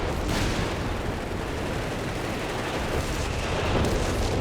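Dense battle din from Company of Heroes 3, with artillery and gunfire blending into a continuous loud rumble of blasts and crackle, no clearly separated shots, with a few sharper bursts rising near the start and end.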